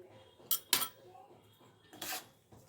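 A spoon stirring horsegram curry in a pot, giving a few sharp metallic clinks and scrapes at uneven intervals, close and fairly quiet, with soft room noise between them.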